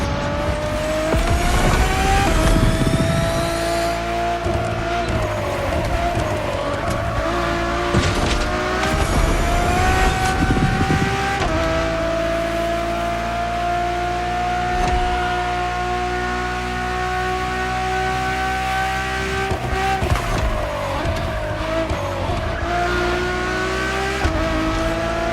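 A Ferrari Enzo engine in the racing game The Crew Motorfest revs hard through repeated gear changes, with rising and falling wails and brief tire squeals, loud and continuous.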